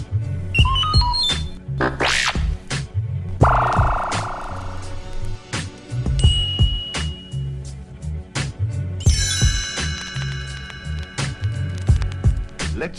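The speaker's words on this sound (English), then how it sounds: "You will know it is time to turn the page when you hear the computer sound like this." Beeping electronic page-turn chimes from a computer-read children's storybook of Casper the Friendly Ghost, several bright tonal signals and rising sweeps layered over steady low music and hum, fairly loud throughout.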